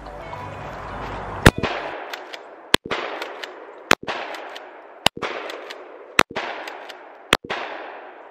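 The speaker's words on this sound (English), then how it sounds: "Round one, I'm starting off with the pump action." Pump-action shotgun loaded with low-brass steel shot firing six loud, sharp blasts outdoors, roughly one per second, each ringing off into a decaying echo, with no talk between shots.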